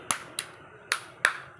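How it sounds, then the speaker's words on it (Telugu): Children clapping in a classroom: five short, separate claps at uneven intervals, close and fairly loud, with no talking. "క్లాప్స్ కొట్టండి"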